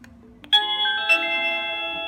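Xiaomi smart video doorbell chime ringing, a soft click then a clear bright melodic ding-dong tone that rings out and sustains, close and alone.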